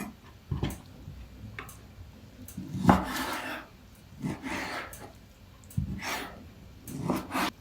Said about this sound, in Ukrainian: Беру досточку з ножем і буду нарізати.